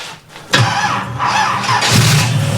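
A car engine cranks briefly, then catches and runs at a steady, loud idle after the choke is set and gas is squirted in, close and with no talking.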